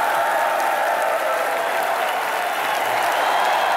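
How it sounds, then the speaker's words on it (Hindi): Studio audience on a Hindi comedy show breaking into loud, sustained applause, dense and even clapping that fills the room from start to finish. "एक बार जोरदार तालियां मेरे फेवरेट रजत जी के लिए"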